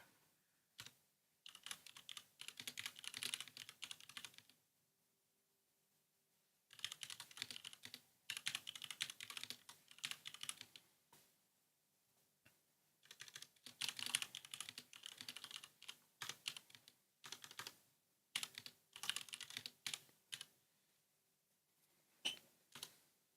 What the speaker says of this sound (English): Let me type real quick.